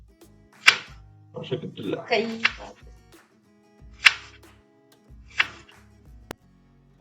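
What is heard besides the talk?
chopping onions and green chillies with a knife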